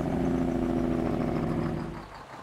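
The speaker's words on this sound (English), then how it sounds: "Sounds of this truck are truly wonderful." A Kenworth-style T600 Daycab truck engine in the Farming Simulator video game. A loud, low, throbbing diesel drone holds steady for about two seconds, then drops away quickly as the engine winds down.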